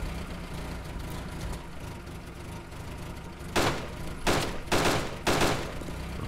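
Four sharp gunshots from an Arma 2 Wasteland mod match ring out in quick succession over a low, steady background rumble, each burst loud and separated by short gaps.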